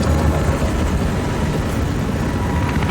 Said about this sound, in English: Yes, we have helicopters again in Hardline.